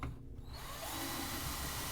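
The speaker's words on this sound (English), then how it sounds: "Now I need to drill another one" Power drill boring into a handmade soap box, a steady loud motor whine that kicks in after a brief pause and holds continuously to the end.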